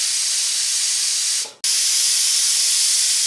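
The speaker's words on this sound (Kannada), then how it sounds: "ಇದೇ ರೀತಿ 3 ವಿಸಿಲ್ ಬರಬೇಕು." Pressure cooker whistle blasting steam while chicken curry cooks, a loud continuous close hiss that dips briefly to near silence before resuming just as strongly.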